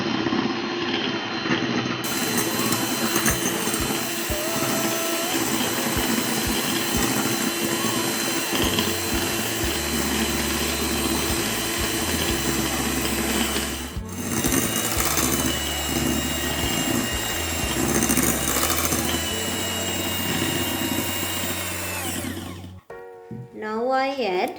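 Electric mixer beating white sugar into yogurt cake batter, a continuous whirring motor drone with shifting pitch, a brief dip midway and a short stop near the end.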